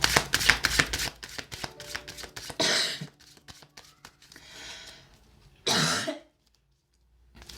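Two sharp coughs ring out a few seconds apart, close and loud, following a stretch of rapid tarot card shuffling and clicking.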